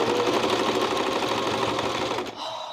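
A sewing machine runs steadily at high speed for a couple of seconds, a dense close mechanical whirr and needle chatter, then abruptly slows and stops near the end.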